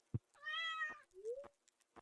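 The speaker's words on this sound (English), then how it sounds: "Gotta pet my cat." A house cat gives a short rising meow and then a little chirping trill, close by and clear in a quiet room, with a couple of soft taps around them.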